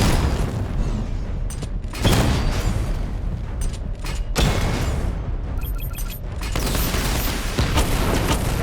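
In Batman: Arkham Knight, the Batmobile's missile barrage fires in loud rapid volleys of booms and mechanical clatter, with bursts separated by short pauses and no talk.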